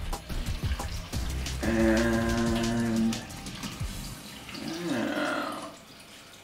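Cold water poured into a pan with ginger root on a stove, giving a steady splashing, gurgling pour with a rising tone, a brief pause, then a second shorter pour.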